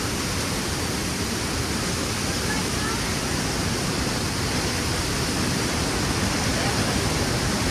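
Niagara Falls water pours and splashes at the Cave of the Winds in New York, a steady, close, loud roar of rushing water that holds unbroken throughout.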